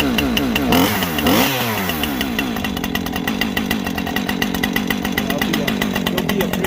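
A Husqvarna 550 XP chainsaw fires up from cold on half choke, sweeping through a couple of quick revs before settling into a loud, close, rapidly pulsing idle.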